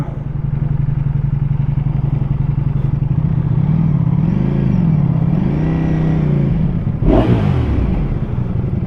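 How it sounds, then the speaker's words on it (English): A 2025 Ducati Panigale V4S motorcycle engine rumbles loudly nearby, with the pitch rising and falling as the bike pulls up, then a sharp clunk near the end. "I'm just gonna pull the bike up, like, right up front."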